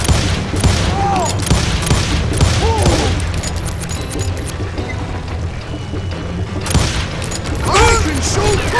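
Gunfire in the Call of Juarez video game, with dense bursts of shots and booms in a busy firefight under shouting voices, loud throughout with no clear breaks.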